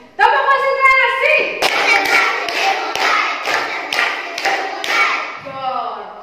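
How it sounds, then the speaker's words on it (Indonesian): A primary school class does a rhythmic concentration clap, with several loud, evenly spaced group claps in unison under children's voices and brief talk. "Tepuk konsentrasi."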